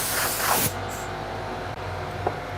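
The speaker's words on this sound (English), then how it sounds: "So make sure you have an air compressor." Compressed air blasts from a blower nozzle to clear Dremel grinding dust off an orthotic, a loud hissing burst that cuts off abruptly, followed by a quieter steady background hiss and a couple of faint taps.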